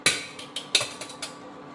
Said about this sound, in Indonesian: Nih, tempe busuknya tinggal kita halusin di sini.